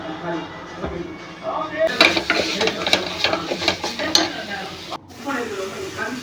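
Tomatoes are sautéed and stirred in a pan over high flame as part of a village-style veg biryani with cauliflower, giving a steady sizzle under irregular scraping strokes of the spoon against the pan. The sound is close and carries briefly into a short pause.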